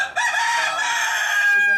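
A rooster at a fancy poultry farm in Rajbari keeping many breeds gives one loud, close, sustained crow.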